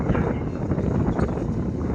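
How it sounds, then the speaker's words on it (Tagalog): Strong wind buffets the microphone in a steady, loud rumbling roar while flying a kite, gusting throughout the short clip. "Lakas kasi ng hangin."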